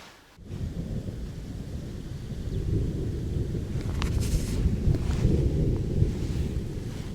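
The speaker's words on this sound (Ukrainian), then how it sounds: "Непоганий такий грім шарахає." Low thunder rumbles on after a storm at a fishing spot in June, a steady deep roll that swells slightly over several seconds, heard outdoors with some wind buffeting the microphone.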